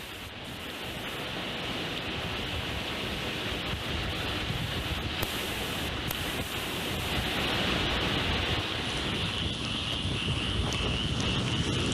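Hurricane Hermine at landfall: a loud, unbroken roar of wind and driving horizontal rain buffeting the microphone, continuous and dense throughout with no voices.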